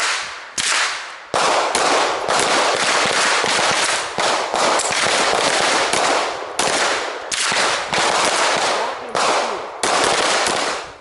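Pistol caliber carbines fire on an outdoor flat range in loud, rapid shot strings, the sharp reports packed closely and repeating steadily across the whole stretch with only brief gaps between them.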